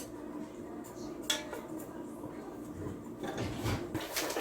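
A spoon scraping and clinking around a pot of carnitas as the meat is stirred, soft metallic knocks and a few sharper clinks over low kitchen noise.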